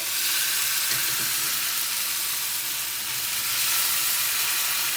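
Onions frying in a pan for rava dosa, a steady close sizzle and hiss of hot oil throughout with faint stirring beneath.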